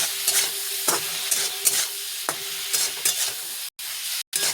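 Paneer sizzles in a pan with turmeric, Kashmiri chilli powder and salt, with repeated scraping stir strokes in a loose rhythm and two short silent gaps near the end.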